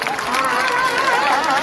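An audience claps steadily throughout, a dense, even applause at a school education event in Kenya, with crowd noise mixed in.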